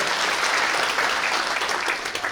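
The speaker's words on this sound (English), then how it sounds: "Why don't we give them a warm round of applause?" Warm applause from an audience at the opening ceremony of a Hakka cultural festival at a Chinese cultural centre in Toronto, a dense, steady wash of many clapping hands that holds loud and even for the whole stretch.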